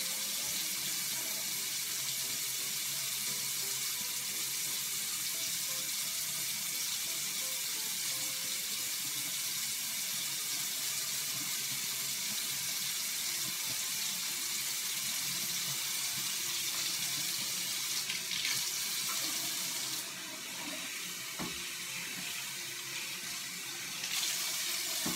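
A bathroom tap runs continuously into a sink, a loud, even rushing stream that holds steady for the whole stretch and dips briefly near the end.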